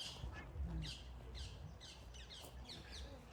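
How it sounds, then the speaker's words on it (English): Birds chirp and tweet in short repeated calls on a calm evening, faint and somewhat distant over a low background hum. "the birds singing, and it's nice"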